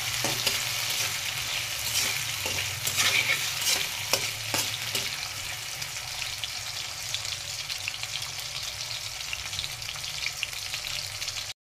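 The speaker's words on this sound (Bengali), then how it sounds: "আলুগুলো এখন ভেজে নেব" Potatoes fry in a pan of hot oil with a dense, loud sizzle, broken early on by several clinking stirs, then settling into an even hiss before cutting off abruptly.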